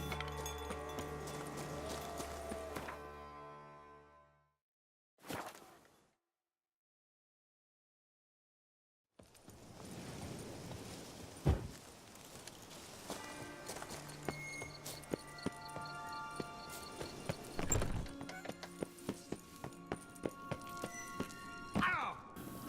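Horse hooves clip-clop in The Witcher 3: Blood and Wine, a series of distinct, fairly close hoof strikes in an uneven rhythm, mixed with game music and effects and broken by a stretch of near silence.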